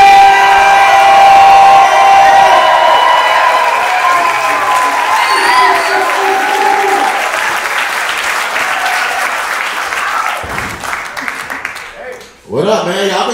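Audience applauding and cheering for a comedian at a live crowd-work comedy show, loud dense clapping with whoops that gradually fades, then a brief burst of talk and noise near the end.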